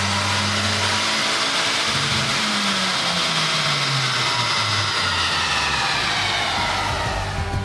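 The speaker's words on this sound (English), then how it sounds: "we're ready for a baseline dyno." A stock Mazdaspeed3 revs hard on a dyno during a baseline run, its loud engine note climbing steadily in pitch over several seconds, with no talk over it.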